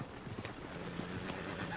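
Horse hooves clip-clopping with a brief whinny in the game Red Dead Redemption 2, a short, quiet burst of hoofbeats without talk.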